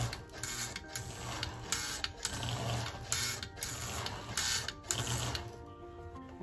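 A Lionel MKT 600 postwar toy train engine's swapped-in motor runs on power with a busy mechanical whirring and rhythmic clattering ticks, steady and close, with no one speaking.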